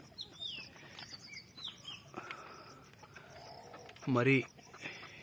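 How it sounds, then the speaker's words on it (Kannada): Country chickens clucking and birds chirping, with one louder clucking call near the end and faint voices in the background. "ಕೆಲವೊಂದು ಜವಾರಿ ಕೋಳಿಗಳನ್ನು ಸಾಕುತ್ತಿದ್ದೇನೆ"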